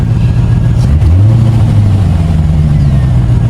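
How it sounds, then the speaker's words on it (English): A 1989 Corvette engine idles loud and close and then revs briefly, with a rough, leaky exhaust note and a slight stumble, heard alone without talk. "Exhaust leaks absolutely everywhere."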